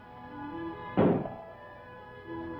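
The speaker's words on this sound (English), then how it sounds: "I shall use the cushion face of the mallet to show what happens when gasoline does not knock." A mallet's cushion face strikes a piston in a 1948 engine-knock demonstration, giving one dull, muffled thunk at close range that fades quickly over a low steady hum.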